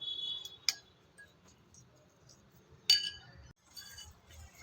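Spoon clinking against a bowl while cardamom powder is mixed into cooled roasted gram flour for besan ladoo, a few sharp, close clinks spread over quiet scraping.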